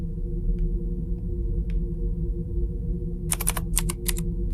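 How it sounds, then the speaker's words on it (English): A computer keyboard being typed on, a short quick burst of several clicking keystrokes near the end over a steady low room hum, with no voices. "What are you typing?"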